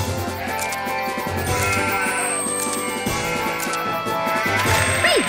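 Sheep bleating in the Toy Story Mania video game at a farm stage, repeated bleats over busy game music and crashing hit effects, loud and continuous.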